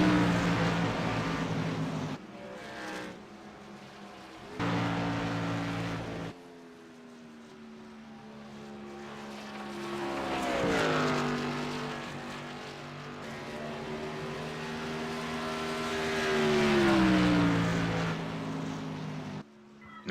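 Race cars on track during a broadcast race rise and fall in pitch as engines rev and pass, several loud surges over about twenty seconds with no talk.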